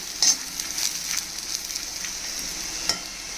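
Coconut pieces roast in a hot kadai with a steady, close sizzle and light scraping stirs, plus a couple of sharper crackles over the even frying hiss.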